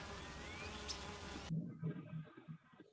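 Bees buzz at a hive, a dense continuous hum that shifts midway to closer, pulsing buzzes of individual insects at moderate volume.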